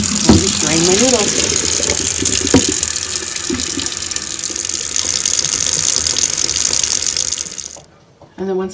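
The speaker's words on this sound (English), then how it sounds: "I just drain my noodles." Hot water pours from a pot of cooked spaghetti through a strainer basket into a kitchen sink, a loud, close, steady rushing splash that runs several seconds before cutting off, with a voice speaking briefly near the start.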